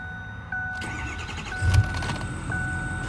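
A lifted, tuned 2008 Ford F-250 XLT with a 6.4L Powerstroke turbo diesel cranks and fires up inside the cab, and the engine settles into a steady, close idle.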